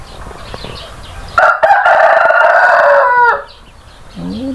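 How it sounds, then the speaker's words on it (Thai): A single loud rooster crow rings out nearby, held for about two seconds, followed by a softer clucking note. "ไก่ขันดังมากเลย"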